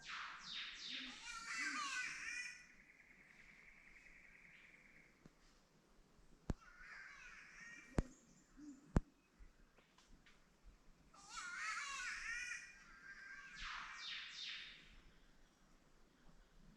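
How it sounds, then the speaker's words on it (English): Three catbirds call back and forth along a rainforest hiking trail, giving harsh, wailing, cat-like cries in bursts with quiet gaps and a few sharp clicks, moderately close. "So I've got 3 catbirds around me, all making their little calls"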